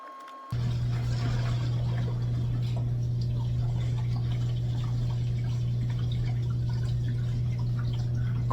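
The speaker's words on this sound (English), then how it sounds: "when somebody flushes the toilet, how loud it is" A toilet flush sends water rushing through pipes inside a family-room wall, a steady low hum with irregular trickles and ticks over it, starting abruptly and continuing evenly.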